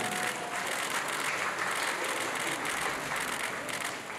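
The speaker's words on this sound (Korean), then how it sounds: "여러분 큰 박수 부탁드립니다." Guests applaud at a ceremony appointing K-pop group Highlight as official ambassadors of the Korea Creative Content Agency; a steady, dense round of clapping, somewhat distant and fairly soft, continuing evenly throughout.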